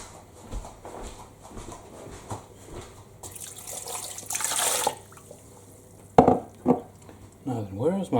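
Tap water runs into a container in a kitchen while a Ninja Foodi Max pressure cooker is in use, with bursts of rushing flow that start and stop, plus clattering handling noises and intermittent knocks between them.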